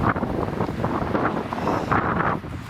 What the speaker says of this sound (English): Sorry about the wind, there's been a bit of a bugger at the moment